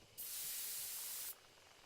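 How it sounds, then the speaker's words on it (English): A single steady hiss of spray lasting about a second, bug spray aimed at a beehive in the Death Mark horror visual novel game, starting and stopping abruptly over a quiet background. "Take careful aim and spray the drug."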